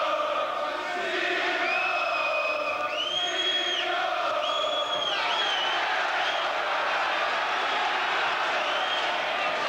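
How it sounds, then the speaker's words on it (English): A crowd at a boxing match between Tony Sibson and Abdul Sanda roars steadily throughout, with rising shouts and whistles standing out above the dense cheering. "Crowd really rising to Sibson when he lets those punches go on the inside like that"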